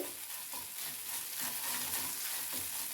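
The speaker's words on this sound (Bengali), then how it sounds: "এবার এটা এই মশলা ভালো করে কষিয়ে নেব" Spice paste sautéing in a pan for papad kadi, a soft continuous sizzle with faint stirring scrapes, steady and close without any talking.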